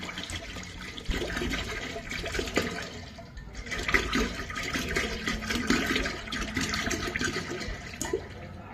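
Five liters of water poured into a vessel for homemade herbal hair oil: a continuous, loud splashing and gushing that swells and eases, close by and alone.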